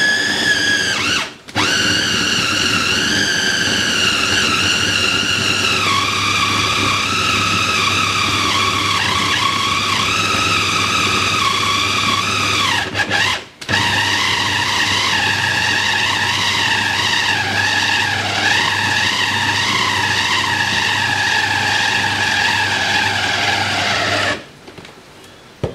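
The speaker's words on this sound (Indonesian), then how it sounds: "Oke, kita chopper dulu. Kasih halus. Saya pakai chopper CH200 ya teman-teman ya." A CH200 food chopper grinding cassava runs as a loud, steady high-pitched whine with continuous grinding for about 24 seconds, briefly dropping out twice before stopping near the end.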